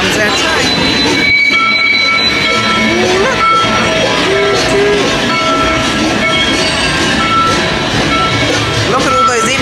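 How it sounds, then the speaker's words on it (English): An indoor theme-park ride train at Disney World, the Mickey and Minnie's Runaway Railway attraction, rolls in with a continuous loud rumble, squealing wheels and tonal whines, while crowd chatter and announcements sound on top. "here comes our train."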